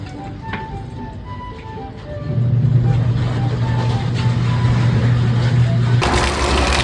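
A water pump runs steadily while water gushes from a well, with a broad constant rushing roar that swells louder partway through and keeps going without a break.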